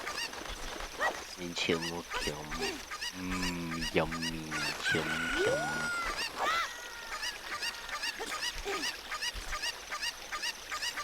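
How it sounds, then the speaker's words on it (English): Cucco chickens cluck and squawk in the video game Zelda: Ocarina of Time, with a run of loud, repeated harmonic calls in the first half, under a player talking over the game. "I won't just take this chicken with me."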